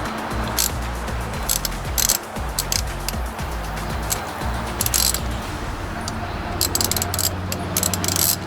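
Ratchet with a socket tightening the rear axle nut on a Yamaha PW80 dirt bike, several bursts of quick clicking pawl strokes with rhythmic pauses between them, close and loud.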